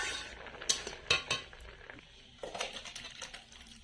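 A metal cooking pot of boiled potato, eggplant and taro with spinach comes off the stove with sharp clanks and scrapes of metal on metal, followed by softer rattling and shuffling.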